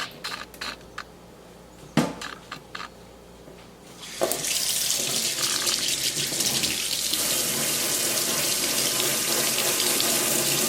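Tap water pours steadily into a small fine sieve, rinsing tomato seeds. A few light knocks and clinks come first, then from about four seconds a loud, continuous broadband rush of running water fills the rest.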